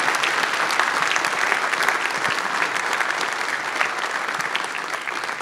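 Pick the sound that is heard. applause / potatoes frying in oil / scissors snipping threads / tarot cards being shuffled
applause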